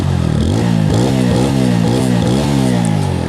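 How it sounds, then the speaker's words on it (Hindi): A TVS Apache RTR 160 4V motorcycle with a dual exhaust revs loudly and close, its engine note rising and falling in a series of quick throttle blips. "दोनों की जो एग्जॉस्ट साउंड है वो मैं आप लोगों को सुना देता हूँ"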